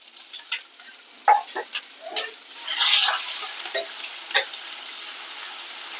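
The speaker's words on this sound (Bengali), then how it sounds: "তো হালকা করে ভেজে নেব।" Grated ginger fries in a pan while being stirred, giving a soft, steady sizzle broken by small scattered crackles and pops, close and fairly quiet.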